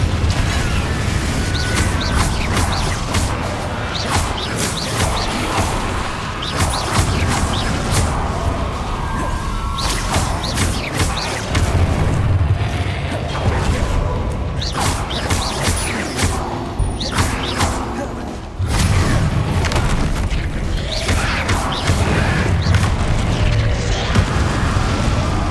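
Confringo blasting spell explosions in Hogwarts Legacy: repeated sharp bursts and crashing blasts over a loud, busy bed of rumbling and mechanical clatter, with impacts arriving irregularly throughout.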